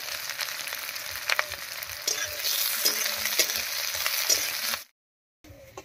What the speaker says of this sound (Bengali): দিয়ে দেবো কয়েকটা কাঁচা লঙ্কা, দিয়ে দেবো কয়েক পর রসুন,